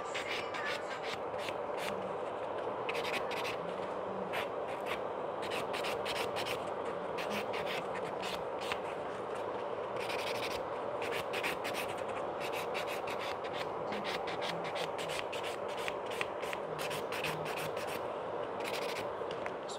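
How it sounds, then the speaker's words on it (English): A nail buffer rubs over gel nails in quick, soft scratchy strokes, a faint close-up rhythmic rasping that continues steadily throughout. "So take a buffer and just buff the nails nice."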